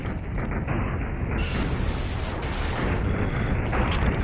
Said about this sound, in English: Once you start hearing an explosion in this game, it's called get the hell out of Dodge.